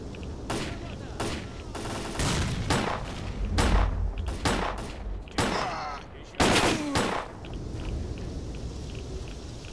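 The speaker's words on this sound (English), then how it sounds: "Okay, that's loud shooting." Loud gunfire in the video game S.T.A.L.K.E.R., with AKs and Makarov pistols: several sharp, forceful shots and short bursts spread across the clip, some very close and booming, with brief gaps of quieter background between them.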